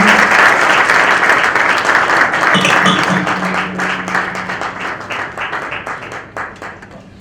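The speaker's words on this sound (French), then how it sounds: "Applaudissements, s'il vous plaît" Audience applause at a book launch for a Congolese public procurement law book, dense sustained clapping from a crowd filling the room, slowly thinning toward the end.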